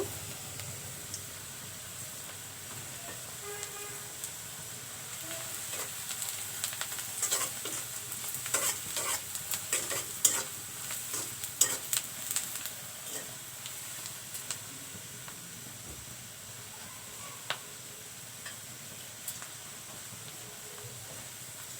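Beans, new potatoes and tomatoes fry in a pan with chilli powder, turmeric, cumin and salt, giving a quiet, continuous sizzle with scattered scraping stir strokes clustered in the middle.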